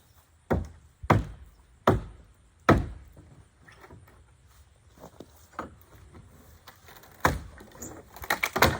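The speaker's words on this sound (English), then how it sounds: "See how the pry bar goes up under this door." Several sharp, loud wooden cracks and knocks spaced irregularly as a pry bar levers up and splits deck boards during deck demolition, with quieter creaks and scrapes between them.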